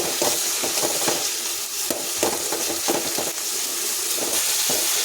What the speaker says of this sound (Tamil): வெங்காயம் தக்காளி ரெண்டையும் ஒன்றா சேர்த்து போட்டு நல்லா எண்ணெயில் நல்லா வதக்கி எடுத்துக்கலாம்